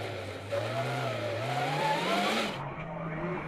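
A rallycross Supercar engine drones and revs as it passes through the slow joker lap at Lessay, rising pitch with tire noise, fairly close, while a commentator talks over it.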